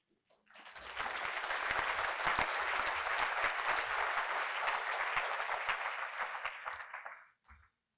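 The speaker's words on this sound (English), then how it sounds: "And the reason you're clapping" Sustained audience applause fills a ballroom, rising quickly, holding steady and loud for several seconds, then tapering off at the end.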